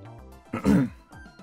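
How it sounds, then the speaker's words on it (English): A single throat clearing from a character in the Steins;Gate video game, a short rough grunt rising and falling over faint background music. "I clear my throat and change the subject."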